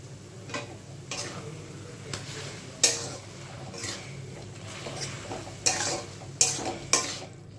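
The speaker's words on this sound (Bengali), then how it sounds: "এর মধ্যে দিয়ে দেবো সেই কারি পাতাটা" Raw curry leaves dropped into a hot pan for a traditional Bengali vegetarian water lily dish, giving a soft sizzle and frying crackle with scattered sharp clinks and stirring knocks of a utensil against the pan, fairly close and without talk.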